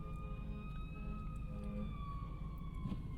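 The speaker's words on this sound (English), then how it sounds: "I hear sirens coming by right now" Distant emergency-vehicle sirens pass outside a car driving on snowy roads, faint drawn-out wailing tones over a low cabin and road rumble.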